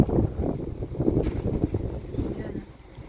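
Typhoon wind rushing and buffeting a microphone outdoors, a rough, continuous roar with gusty surges, fairly faint, with a voice briefly under it.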